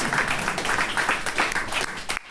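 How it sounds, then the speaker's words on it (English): An audience at a conference session claps for a helper, a broad, loud round of applause sustained for about two seconds before cutting off abruptly. "can I just have a round of applause for Dan?"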